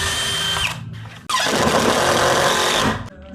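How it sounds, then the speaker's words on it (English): A power drill pre-drilling into a wooden door frame while installing a new entry door, two close, loud whirring bursts, a short one and then a longer sustained run with a brief pause between. "I'm just gonna have to pre-drill in here and drill into the actual"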